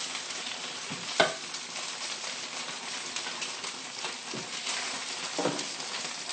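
Pork dumplings frying in an uncovered pan, with a steady close sizzle and crackle throughout and a few louder pops and spits.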